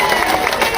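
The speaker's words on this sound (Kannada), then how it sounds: "ಜೋರಾದ ಚಪ್ಪಾಳೆ ಹೊಡಿರಿಪ್ಪ." A large crowd at a farmers' union gathering claps loudly in a dense, continuous wash of applause over a very short stretch.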